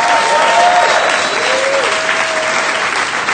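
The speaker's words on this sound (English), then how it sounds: "Let's give them a round of applause." Audience at a public talk giving a round of applause, a dense steady clapping that stays loud and close from start to finish.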